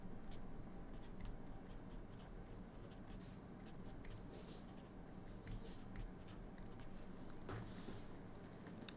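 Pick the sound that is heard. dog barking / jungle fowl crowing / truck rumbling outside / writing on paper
writing on paper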